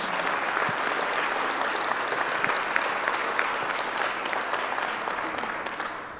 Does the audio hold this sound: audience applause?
yes